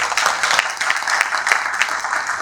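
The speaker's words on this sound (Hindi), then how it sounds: "इसलिए जोरदार ताली होनी चाहिए।" Audience applause at a direct-selling business workshop, a dense wash of clapping from many hands running steadily throughout at moderate loudness, with no voices rising above it.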